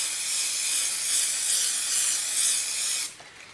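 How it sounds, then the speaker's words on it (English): A steady, loud hiss of spray adhesive sprayed onto pastel chalk runs continuously for about three seconds, then cuts off abruptly, leaving faint quiet. "spray the pastel chalk with"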